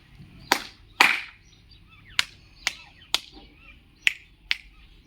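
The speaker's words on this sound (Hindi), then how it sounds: "मैंने 2 बार तालियां बजाई थी" Sharp hand claps and pats used to signal a number in a children's counting game, seven crisp separate hits spaced unevenly, the first two strongest, in a quiet room with no talk.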